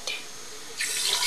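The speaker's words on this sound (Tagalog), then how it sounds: "Dapat lalagyan ng tubig." Water runs steadily from a tap, hissing faintly, then grows louder and splashier as it pours into a cooking pot.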